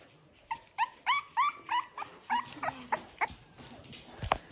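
Olde English Bulldogge puppies two to three weeks old whimper and yip in a rapid series of high, squeaky cries, close and clear with no talking.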